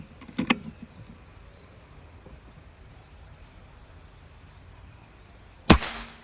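Air rifle, a double-power plenum Goblin model shooting at long range, firing its eighth shot: a single sharp crack near the end, with a smaller clicking burst early on and quiet background between.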